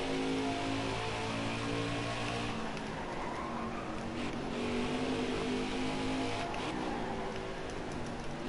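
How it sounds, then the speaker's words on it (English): Racing truck engine in NASCAR Heat 5, a Gander Truck Series race at Canadian Tire Motorsport Park, held at a loud steady drone that shifts pitch as the truck downshifts and accelerates through corners, with faint tire noise. "Elliott driving this 24 truck as hard as he can to the line"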